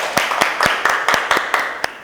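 Scattered classroom clapping for a student presenter: about nine sharp, separate claps at an even pace, fairly close and with no voices over them.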